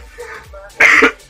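A single rough cough bursts out near the end, briefly loud, after a stretch of quiet, indistinct vocal sound.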